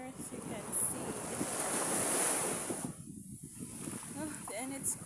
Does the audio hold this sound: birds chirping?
no